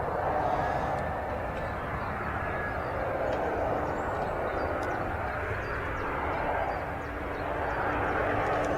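An Embraer jet aircraft at Manchester Airport makes a faint, distant steady engine drone under a wash of background noise, with no clear peak as it holds at a low level.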